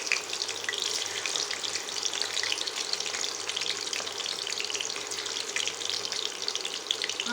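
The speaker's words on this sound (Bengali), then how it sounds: "এবার আমি আলুটাই তেলের মধ্যে দিয়ে দিচ্ছি।" Parboiled potato pieces frying in hot oil in a pan, a continuous hissing sizzle at steady level close by, without any talking.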